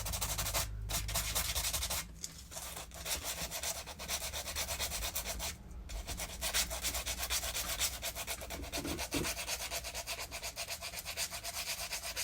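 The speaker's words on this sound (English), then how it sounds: "So just be really careful when you're sanding it" Steady rubbing and sanding across a scuffed leather shoe, a continuous close scratchy texture running throughout with slight variations in pressure and no talking.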